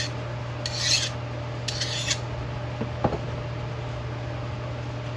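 An older fine-grit file drags across a metal tool in a handful of short, dry rasping strokes, close and fairly quiet over a steady background hum, with one faint tap partway through.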